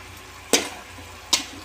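Two short scraping clacks of a utensil stirring pork adobo with black pepper in a pan, spaced about a second apart over a low steady background.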